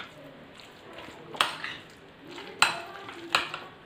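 A spoon scrapes and clinks against a bowl while chicken filling is stirred with mayonnaise, three or four distinct close taps between soft squishing strokes.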